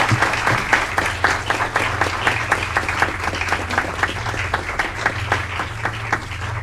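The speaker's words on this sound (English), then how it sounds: "Big round of applause." A crowd applauds steadily at a city council meeting in Aurora, dense clapping filling the room at an even level throughout, with faint murmurs beneath.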